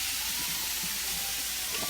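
Hot oil sizzles steadily in a pan in a home kitchen, a loud, close, continuous hiss with no talk.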